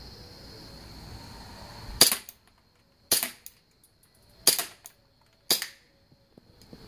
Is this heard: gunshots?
yes